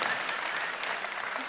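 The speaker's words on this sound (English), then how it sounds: "So getting applause." Audience applause at a church service, a brief dense wash of clapping at steady moderate loudness from start to finish.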